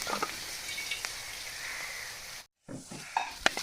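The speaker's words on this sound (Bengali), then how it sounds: "জিরে গুঁড়ো হাফ চামচ, এখন আমি এটা মাংসতে ঢেলে দেবো।" Duck meat curry sizzles steadily in a village-style pan, a broad hiss with soft stirring scrapes; the sound briefly cuts out, then resumes with a few sharper clinks and crackles as ground cumin goes in.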